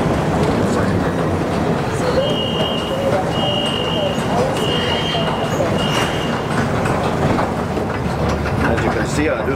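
A Kuala Lumpur MRT metro train in a station gives a loud, continuous rumble and roar across the whole stretch, with a steady high tone sounding intermittently partway through, and no clear pause.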